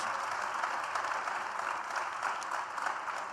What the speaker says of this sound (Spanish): Aplauso para los dos